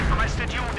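Artillery fire rumbles through a Company of Heroes 2 match as a dense, continuous booming roar that fills the brief moment, with a voice speaking over it.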